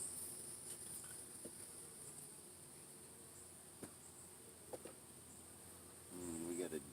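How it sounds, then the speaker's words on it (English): Bees drift around an opened beehive, a faint, thin buzzing hum over quiet background, with a few soft knocks and a slightly louder buzz near the end. "You get some bees on here looking around"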